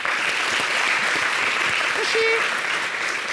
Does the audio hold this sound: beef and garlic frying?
no